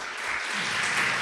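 Congregation applauding during a church service, a dense, steady burst of clapping from many people that swells slightly toward the end.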